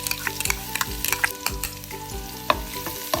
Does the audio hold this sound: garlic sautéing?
yes